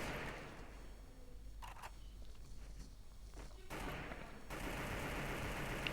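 Scar rifle gunfire in a video game, a series of quick rifle bursts heard faintly and at a distance, separated by stretches of low ambient noise.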